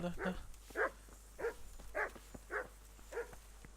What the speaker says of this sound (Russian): Но здесь есть собачки.